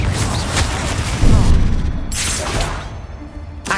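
Confringo explosion spells go off in the video game Hogwarts Legacy: several loud booming blasts and crackling bursts follow one another quickly over a dense, noisy background.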